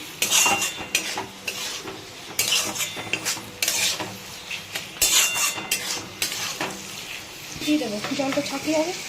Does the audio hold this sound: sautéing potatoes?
yes